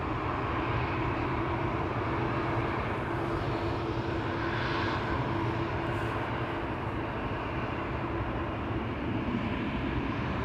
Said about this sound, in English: A320 coming this way to Paris.